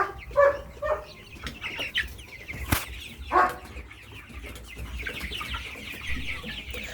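Layer hens cluck and squawk close by, with a sharp burst of flapping wings in the middle and a steady murmur of flock noise throughout.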